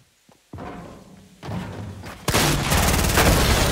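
Fortnite gunfire comes in loud bursts: a faint early crack, then two heavier volleys, and finally a sustained, dense barrage of shots, with no voices over the shooting.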